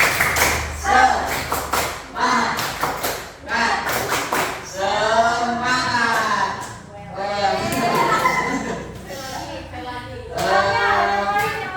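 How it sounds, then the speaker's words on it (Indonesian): A school class does a rhythmic Indonesian spirit clap, bursts of claps and thumps in a set pattern with children chanting and voices over it, loud and close. "Sebelumnya mari kita tepuk semangat terlebih dahulu."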